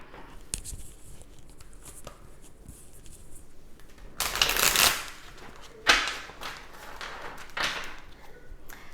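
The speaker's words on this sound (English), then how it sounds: "I'll get one more good shuffle." Tarot cards being shuffled by hand, with soft riffling and tapping bursts, one long flurry in the middle and several shorter ones after, close and fairly quiet with no talking.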